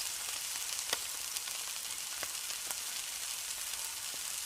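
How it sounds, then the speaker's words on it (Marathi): Green village brinjals sautéing in a pan produce a soft, even sizzle with occasional faint clicks of a spoon, steady and quiet throughout, with no talking. "आता ही सुद्धा चांगली अशी परतून घेऊया"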